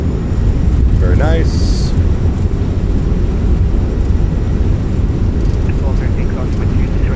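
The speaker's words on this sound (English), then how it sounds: "Goes down gently, reversers are out, decelerating." Fenix A319 in a flight simulator game touching down gently with thrust reversers deployed, a steady loud broadband engine roar throughout, with a brief tonal chime and someone speaking over it.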